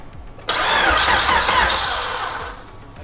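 A high-compression Honda K-series car engine cranks briefly on its first start, catches with a loud burst, then settles into a steady idle that gradually quiets.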